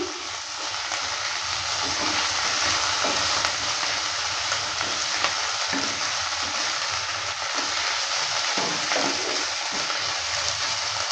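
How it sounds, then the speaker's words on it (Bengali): Onion and grated ginger frying in a pan, a loud continuous sizzle with occasional scraping stirs throughout, no voices. "আদাটা দেওয়ার পর ভালো করে আবারও নেড়ে নিচ্ছে"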